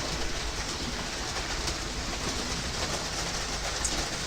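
A model West Country class locomotive running on track without coaches, producing a steady, continuous broadband whirring rumble with no distinct pauses, close and alone.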